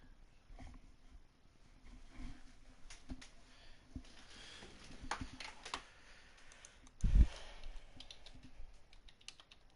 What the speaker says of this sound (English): I'm just typing to you guys here in the live chat